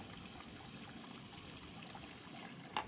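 A lab beaker rinsed with an ethanol and water solution, a faint steady trickle of liquid with a small clink near the end.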